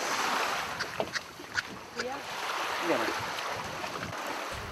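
A damaged wooden boat holed after hitting a rock moves across open water, with a steady wash of wind and water broken by a few knocks and splashes, while people talk faintly in the background.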